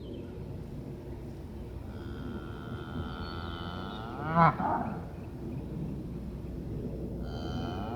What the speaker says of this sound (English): These are Alabama cows.